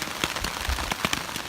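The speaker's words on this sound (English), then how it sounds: "I'm sure you can hear that rain out there" Steady rain falls at night on a camping shelter in Red River Gorge, a dense continuous patter of drops striking the surface close by, with no talking.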